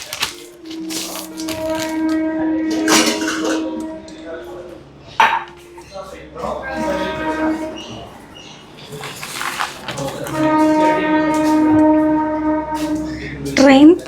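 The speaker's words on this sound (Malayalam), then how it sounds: "ട്രെയിൻ പോകുന്ന ശബ്ദം ആണത്." A train passes near a home's sit-out: long tonal horn-like blasts come at the start and again near the end, over a rumbling, clattering background, with people talking at times.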